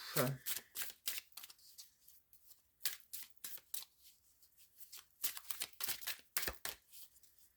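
Oracle cards being shuffled by hand in a series of quick, crisp riffling bursts with short pauses between them, close and fairly quiet, with no talking.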